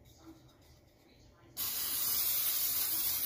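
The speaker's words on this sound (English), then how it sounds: "Get a little pan spray." A quiet moment, then a sudden steady hiss of cooking spray onto a pan that runs continuously to the end.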